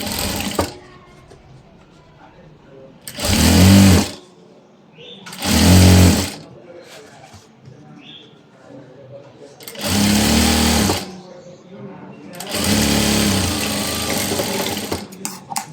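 Sewing machine stitching long frock fabric, four loud close bursts of rapid whirring separated by pauses, with someone talking in between the runs.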